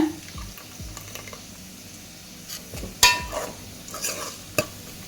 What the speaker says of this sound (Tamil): இதோட தயிரும் ஊற்றிட்டு நம்ம மொத்தமாக இதெல்லாம் வதங்கி நம்ம ஊற்றின நெய்யும் எண்ணெயும் பிரிஞ்சு வர அளவுக்கு நாம் கொஞ்ச நேரம் வதங்க விட்டுறலாங்க